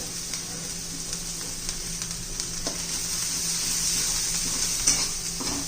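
Chicken masala with turmeric and coriander fries in oil in a pan, a steady close hiss and sizzle with occasional faint clinks of a utensil, no one speaking.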